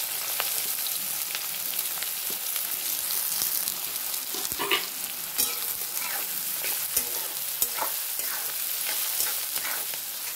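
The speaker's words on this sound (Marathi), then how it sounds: "आता हा कांदा आपला लाल होईपर्यंत चांगला परतून घ्यायचा आहे." Finely chopped onions frying in plenty of oil with cloves, peppercorns and cinnamon for a paneer masala gravy, giving a continuous close sizzle with frequent scraping stirs of a spatula and no talking.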